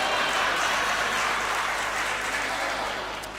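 A comedy poetry audience breaks into a dense, sustained wash of applause that stays loud throughout and fades slightly toward the end, with no speech over it.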